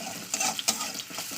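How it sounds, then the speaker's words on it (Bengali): Sliced onions frying in hot mustard oil in a pan for a fish recipe, a steady close sizzle broken by a few soft stirring scrapes, with no talking. "পেঁয়াজটাকে একটু লালি করে ভেজে নেবো"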